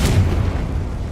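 A Confringo spell explodes in Hogwarts Legacy, a single loud booming blast with a low rumbling decay that fades over about a second.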